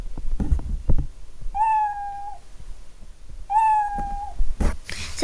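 A synthetic cartoon cat meow in a Scratch coding project plays twice with a pitch effect applied. Each meow is a clear, sustained, slightly wavering tone, separated by short gaps with faint clicks in between.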